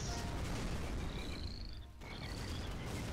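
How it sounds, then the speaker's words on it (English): Frogs in the Shellshock Live game croak in short repeated trills over a dense, steady background, with a brief dip in level near the middle and no talking. "Froggies!"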